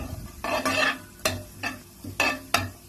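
Onions and curry leaves sautéing in a pan for a paneer butter gravy while a spoon stirs them, producing four or five loud scraping strokes over a light sizzle.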